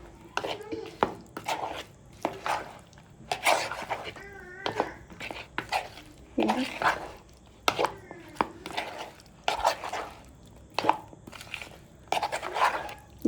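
Paneer pieces, capsicum, onion and tomato are mixed in a marinade for paneer tikka, producing repeated soft, wet scraping and squishing strokes against a bowl at a steady rhythm, close and moderately quiet.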